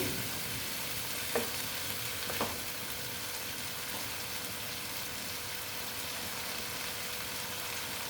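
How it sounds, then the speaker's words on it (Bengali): Small mourola fish fry and sizzle in a pan for a spicy chorchori, a soft, even crackle throughout with a couple of brief spatula scrapes near the start, fairly quiet and alone. "মাছগুলো কষিয়ে নিচ্ছি"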